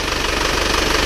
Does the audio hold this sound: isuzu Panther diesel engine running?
yes